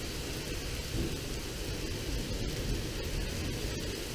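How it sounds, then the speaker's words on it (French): Strong multicell thunderstorm over Tour-en-Sologne with north wind gusting hard: a steady, dense roar of wind and rain fills the whole stretch at even loudness, with no voices. "Le vent vient du nord. Alors que l'orage vient de l'ouest."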